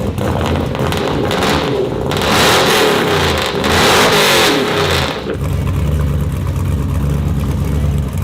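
A lowered shop truck, sitting three inches lower in the rear, revs its engine loudly as it drives off an alignment rack, the engine note swelling in two strong surges before settling to a steadier running sound.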